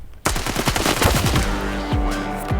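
Gunfire in a first-person shooter video game: a sudden, loud burst of rapid automatic shots with echoing tails, then a ringing tone as the firing fades.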